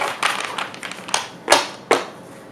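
Tarot cards being shuffled by hand, a run of quick papery riffles and taps followed by two sharper louder snaps of the deck, close and alone with no talking.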